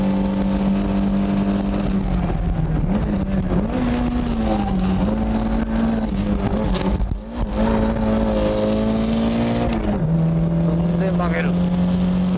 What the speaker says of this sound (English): What I'm doing is simply turning the car with the gas pedal.